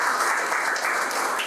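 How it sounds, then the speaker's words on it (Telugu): Steady, dense audience applause filling a short stretch, loud and even without pauses, with no speech over it. "వారికి గట్టిగా ఒకసారి చప్పట్లు కొట్టి అభినందనలు తెలియజేశారు"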